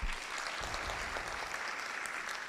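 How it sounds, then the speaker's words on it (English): Audience applause after a lecture at the 4th World Dental Sciences and Oral Health Conference at KGMU, a dense crackle of clapping from a hall crowd that holds steady throughout. "I would like you to give me a huge round of applause"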